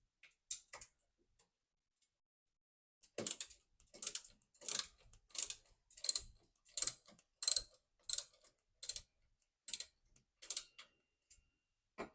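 A Gator Grip universal socket loosens a bolt with a run of sharp, evenly spaced ratcheting clicks, close and crisp, after a few scattered ticks, with no voices.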